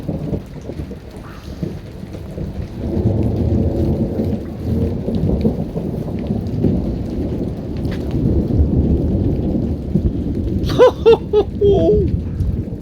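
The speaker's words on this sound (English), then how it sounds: "This is going on 10 minutes non-stop thunder." Continuous thunder rolls and rumbles without a break through a heavy rainstorm, deep and loud over steady rain hiss, with a brief voice near the end.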